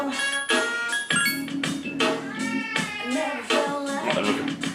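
Agitated pet cat meowing loudly and repeatedly close to the microphone, a series of long, wavering, drawn-out cries in quick succession.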